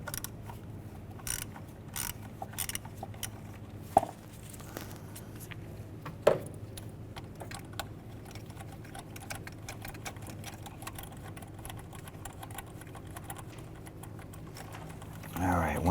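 Socket ratchet with a deep socket and extension loosening EGR pressure feedback sensor bolts on a 1993-1997 Ford Ranger: quiet, rapid clicking of the pawl under low background noise, with a couple of sharper knocks.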